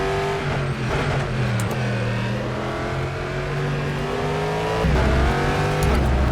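A GTE race car engine in the rFactor 2 racing game roars steadily at high revs, shifting pitch with gear changes and a brief surge near the end, loud and close with no talking.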